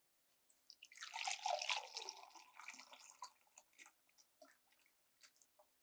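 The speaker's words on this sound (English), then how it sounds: "Coconut milk. Let's pour it out." Coconut milk poured for a shrimp curry makes a short, soft liquid gush, then fades to scattered trickles and drips, heard close and quiet.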